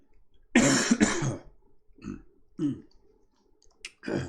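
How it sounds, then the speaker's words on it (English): A man coughs hard twice in quick succession, then lets out a few softer throat-clearing coughs and breaths, close and alone in a quiet room. "I got a cough"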